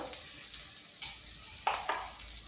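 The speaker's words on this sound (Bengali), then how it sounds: "আর দিচ্ছি গরম মশলা এগুলো ভালোভাবে মিশিয়ে নিচ্ছি" Spices and potatoes stirred and fried in a pan: a soft steady sizzle with a few scraping stir strokes, fairly quiet, with no talking.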